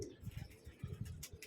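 Soft low cooing from a pigeon in a pigeon loft, a few quick throaty pulses, close but faint.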